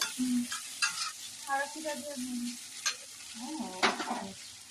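Onions frying in a pan for masala Maggi noodles, a steady soft sizzle with a few stirring scrapes, while someone talks over it.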